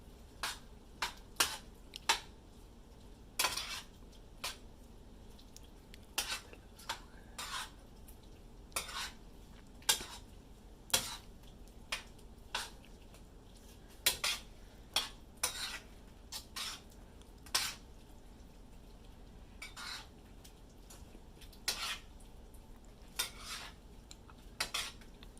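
Bacon stirred in a pot for Cajun shrimp and grits, a scatter of sharp utensil clinks and scrapes against the pot at an irregular rhythm over a quiet background.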